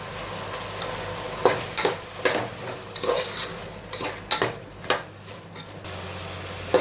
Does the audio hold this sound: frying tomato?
yes